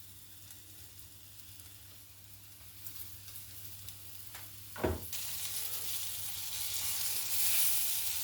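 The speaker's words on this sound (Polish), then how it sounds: "One się dosyć szybko tutaj smażą." Chicken tenderloins sizzle steadily in a hot frying pan, the frying hiss swelling louder after a brief clatter midway and continuing to the end.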